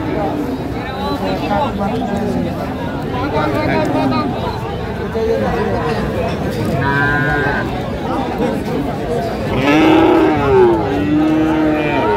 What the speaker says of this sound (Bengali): বকনা বাছুর আমরা দেখছিলাম এখানে।